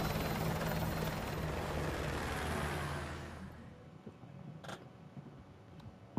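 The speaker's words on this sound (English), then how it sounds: "I'll brief you on the chopper." Helicopter from the Call of Duty Modern Warfare Remastered video game: a loud, steady rotor drone that fades away after about three seconds, leaving faint background noise with brief sharp clicks.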